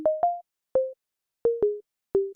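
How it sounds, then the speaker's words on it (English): A simple sine wave pluck melody from the Serum synthesizer plays a handful of clean, short tones, each with a soft attack and quick fade, some notes sliding slightly in pitch, with silence between. "we're going to begin with just a sine wave"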